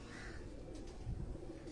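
Pigeons on a rooftop coo softly, low rounded calls close by and repeating against a faint outdoor background, with no talking.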